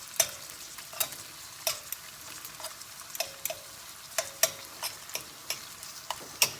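Beef strips coated in cornflour and egg being stirred and separated in a hot pan, with a steady soft sizzle and repeated light scraping clicks of the utensil at an irregular pace, close by and without talk.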